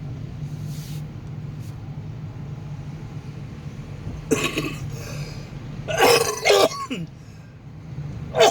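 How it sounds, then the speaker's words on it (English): Several raspy coughs and throat-clearing hacks from a man with COPD at a Des Moines post office, coming in short bursts over a steady low indoor hum, with a last brief cough near the end. "You hear me coughing and hacking."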